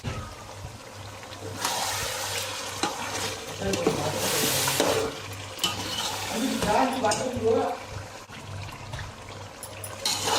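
Mutton biryani masala stirred in a pot while the mutton cooks, wet scraping and sloshing stirs rising and falling in bursts over a low steady hum, with a few clinks of the spoon.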